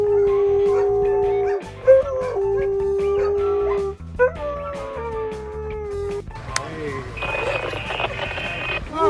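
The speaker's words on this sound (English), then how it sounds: "It's hard to believe this dog can play the piano by itself and even perform with the confidence of a" A dog howls and whimpers in long, wavering tones over a series of piano notes, with pauses between phrases and a busier, brighter jumble of keys toward the end.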